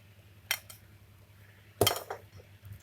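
A utensil scrapes and clinks around a bowl of white cabbage bakwan fritter batter, two distinct sharp strokes with quiet gaps between, close and fairly soft.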